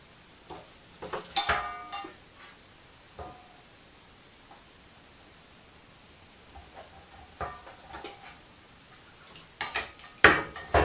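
Screws being loosened on a ceiling light fixture with a motion sensor, the screws rusted: sparse, faint metallic clicks and scrapes in small clusters, with quiet gaps between them.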